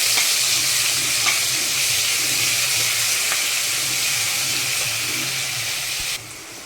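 Ginger garlic chili paste hits hot oil with cumin in a home kitchen pan and gives a loud, steady, close sizzle that hisses evenly before dropping slightly at the end.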